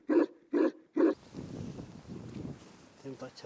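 A Tibetan mastiff at a high-plateau family home gives three loud, evenly spaced deep barks close by, then falls quiet under soft background murmur and brief talk at the end.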